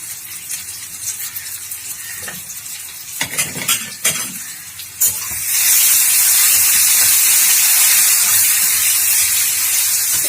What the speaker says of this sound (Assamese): আলুখিনি অলপ ভালকে ফ্ৰাই কৰি লওঁ।